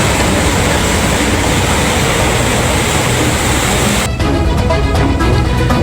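A train creeps slowly over a rail line recently damaged by flooding, its loud continuous rumble and rolling wheel noise close by, shifting into a rhythmic clatter near the end.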